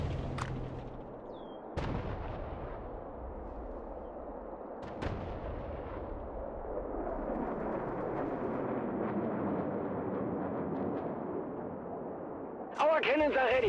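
Heavy artillery cannon booms in a World War Armies battle game, sharp blasts at the start and again near five seconds, followed by a long rumbling roar and a burst of noise at the end.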